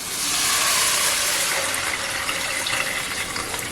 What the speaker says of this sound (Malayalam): വെള്ളം ഒഴിക്കുകയാണ്.